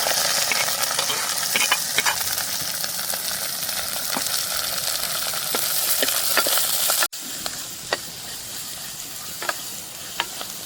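Chopped onions frying in hot coconut oil in a pan, a steady loud sizzle with occasional stirring clicks, briefly cut off and resuming slightly quieter.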